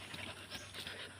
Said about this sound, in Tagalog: Ito yung aso naming makulit.